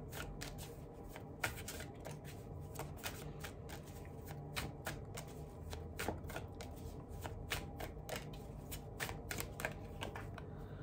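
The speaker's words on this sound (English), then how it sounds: "Pull three cards for you," Tarot cards being shuffled by hand in a steady run of quick riffling flutters and soft taps, close and fairly quiet, continuing alone without speech.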